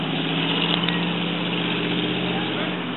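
A 1941 Ford Super Deluxe two-door sedan circles a small quarter-mile loop, its engine a steady low drone heard from a distance throughout, with a voice talking faintly over it.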